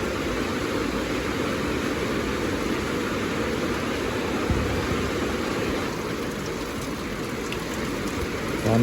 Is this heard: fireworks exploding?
no